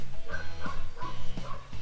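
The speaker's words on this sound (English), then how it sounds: "Why do you got to fucking bark now" A dog barks close by in a quick run of four short, loud barks. The barking is clear and has no talk over it.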